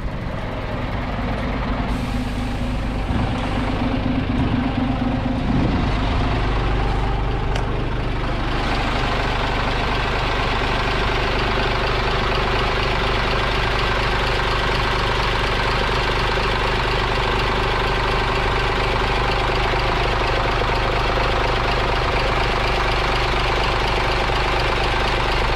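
Scania-powered Caetano Levante coach engine idles with a steady, loud low rumble and a knocking diesel note, running alone throughout.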